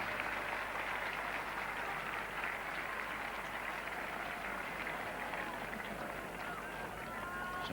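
A steady, sustained roar of crowd applause at a 1975 Ashes cricket Test match in England, broad and continuous throughout, with a commentator's voice faintly underneath.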